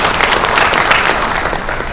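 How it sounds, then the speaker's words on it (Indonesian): Loud, close applause from the audience at a regional congress gathering, a thick continuous patter of many hands clapping for a couple of seconds. "Tepuk tangan Pak Tony,"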